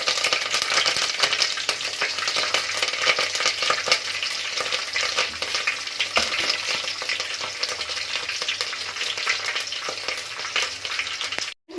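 Mustard seeds, cumin and curry leaves sizzling in about a tablespoon of hot oil for tempering, a loud, close, continuous crackle with popping spits and a stirring scrape, cutting off abruptly at the end.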